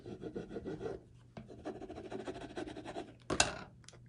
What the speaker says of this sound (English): So go ahead and squeegee this down.